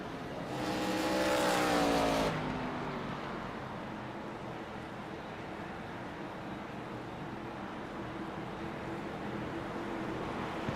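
Race cars circling a short oval track under caution behind the pace car, a loud engine swell passing close early, then a steady distant drone of several cars.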